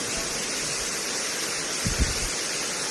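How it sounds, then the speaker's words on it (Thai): Water rushes steadily at Tham Soda waterfall in Nong Phok district, Roi Et, a constant broadband hiss with a couple of soft low thumps near the end. "น้ำตกผา น้ำย้อยนะครับ น้ำตก ถ้ำโซดาครับ"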